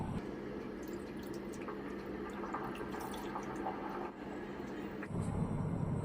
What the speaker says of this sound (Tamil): புளித்தண்ணி சேர்த்து குழம்புல நல்லா கலந்து விட்டுருவோம்.